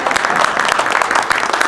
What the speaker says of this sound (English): Yes, you can applaud, please.